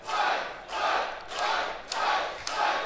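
Wrestling crowd at an NWA show chanting in rhythmic waves, four or five swelling shouted phrases from a large audience, heard from a distance.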